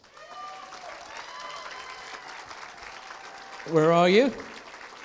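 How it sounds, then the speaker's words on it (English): Applause from an audience at the Spirit of Manchester 2024 live event, a steady crowd wash running under a presenter's talk, with a burst of cheering or singing swelling near the end. "They're not going to stop clapping until you get here"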